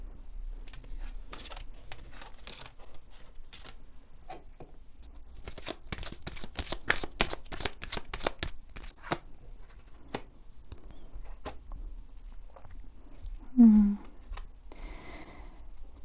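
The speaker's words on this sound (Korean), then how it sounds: "사주 카드로 여러분들의 곧 다가올 시점, 그리고 조언의 카드를 2장만 더 뽑아보도록 할게요" Saju fortune cards being shuffled and drawn by hand, a long run of soft, quick papery flicks and taps, clustered into faster flurries in the middle, fairly quiet and close, with a brief low rustle near the end and no talk.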